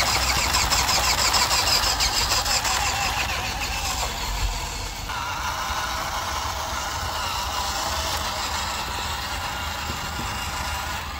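An RC Unimog truck, an LDR/C LD1201, strains its electric motor up loose dirt, giving a steady, continuous whine with some grinding and gear buzz that holds close and fairly loud throughout, slightly lower after midway.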